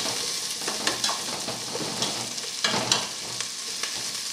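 Onions browning in a hot pan for Thanksgiving stuffing give a steady, close sizzle with scattered crackles and a few louder pops of stirring, with no voices.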